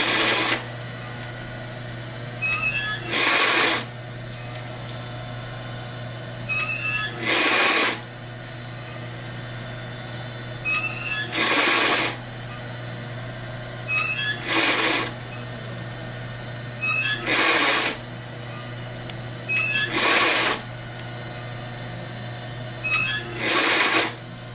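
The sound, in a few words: sewing machine stitching a barrel bag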